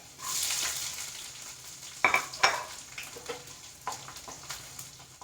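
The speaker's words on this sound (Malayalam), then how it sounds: "ആ ഇഞ്ചി അങ്ങോട്ട് ഇട്ട് കൊടുക്കാം അങ്ങ് പൊട്ടി വരട്ടെ" Ginger and garlic sizzle steadily in oil as they are stirred in a pan, with a few sharp scraping clinks of a spoon against the metal.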